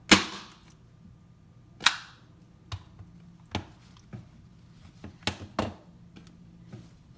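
Staple gun held flat, firing staples into seat cushion fabric while reupholstering a metal chair, about eight sharp snapping shots at irregular intervals, loud and close, with quiet handling between them.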